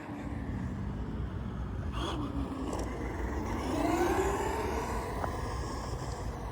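Brushed-motor Traxxas Rustler 2WD RC car running, a steady electric whine that rises and falls in pitch as it speeds up, with a louder surge midway over constant rumbling background noise.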